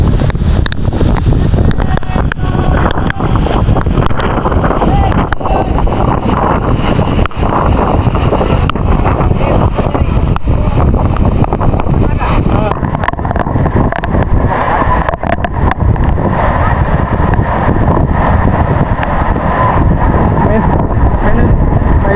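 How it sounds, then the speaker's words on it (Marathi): Heavy rain and blowing spray pour down on a waterfall trek near Khopoli, a loud, continuous roar with strong wind buffeting against the microphone, which eases slightly partway through. "पाऊस लई जोरात आहे."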